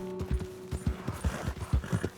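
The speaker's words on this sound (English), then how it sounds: "Good horse." A horse clip-clops along at a steady trot in Red Dead Redemption 2, hooves thudding close and loud in an even rhythm with creaking tack, no whinny evident and no talk.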